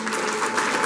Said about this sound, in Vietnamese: Xin một tràng vỗ tay.